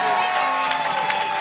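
A live comedy-show audience cheering and clapping, a dense roar of whoops and applause with voices mixed in.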